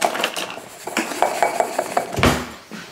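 Cumin powder is shaken and stirred over short ribs, giving a quick series of metallic clinks and scrapes of a utensil against a pan or dish, close and with no talk.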